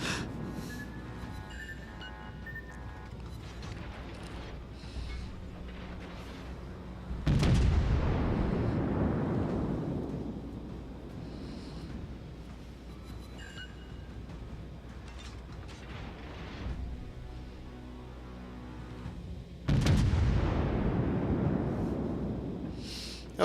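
Heavy naval gunfire in a warship video game replay: two booming salvos about twelve seconds apart, each with a long rumbling decay, over a low ambient hum.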